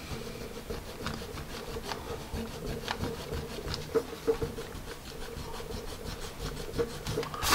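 An art gum eraser rubs out pencil marks on paper, a soft, faint scratchy scrubbing in quick repeated strokes, close up and alone.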